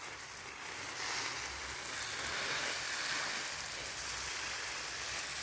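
Bean plants in a backyard in rural northeastern Brazil are watered, making a steady, close hissing spray that swells slightly after the first second and then holds evenly, with no voices.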